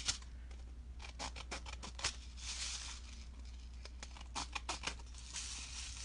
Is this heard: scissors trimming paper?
yes